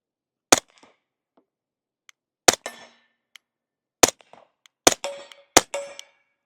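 Five sharp, loud shots from an Accuracy X AXE-34 gun, each followed by a brief metallic clang of a struck target, spaced irregularly about a second or more apart with quiet between.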